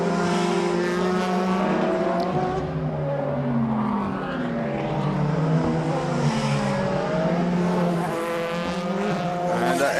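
DTM touring car at the Nurburgring in 2011 powering out of a second-gear corner into a long left-hander, engine note climbing and shifting through gears, loud and continuous over the full ten seconds with overlapping engine tones.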